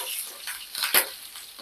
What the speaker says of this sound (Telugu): ఇంకోండి పోపు వేగిపోయింది కదా